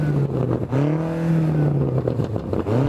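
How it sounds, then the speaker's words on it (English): A BMW M8 with its standard exhaust revs hard close to the microphone, the engine note rising and settling in a steady, throaty drone, with no voices over it. "Now let's have a listen to the M8."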